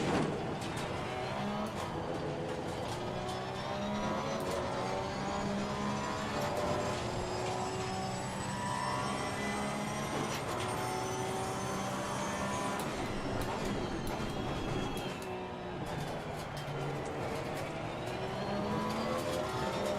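Porsche race car engine at full throttle in Assetto Corsa Competizione, a sustained high revving whine with rising gear sweeps and brief shifts, steady and close throughout with no talk.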